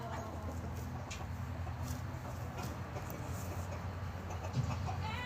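Farmyard chickens and four roosters cluck and stir in a continuous, busy outdoor bed of noise, with battery hens among the flock and a voice talking faintly over the fowl.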